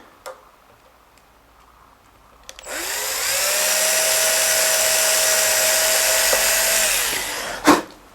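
A power drill runs steadily for about four seconds, boring pilot holes into a Fender Stratocaster Custom Shop guitar body. It spins up with a rising whine, holds a loud, even tone, then winds down, followed by a brief clatter.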